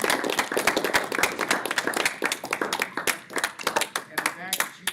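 Audience clapping during a campus talk on fossils and evolution: loose, uneven claps from a crowd, with people speaking over and between them.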